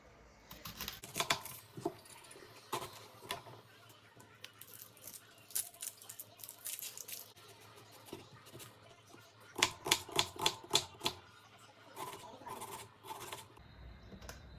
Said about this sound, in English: now I'm going to finely dice 4 cups of onions